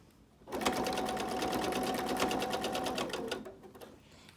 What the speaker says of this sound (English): Just go ahead and push your mask into the side of the machine,